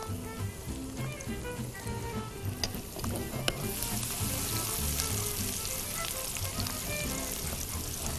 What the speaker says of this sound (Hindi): 3 से 4 जबे हमको चाहिए होंगे लहसुन के चॉप किए हुए। इसको थोड़ा सा फ्राई करेंगे।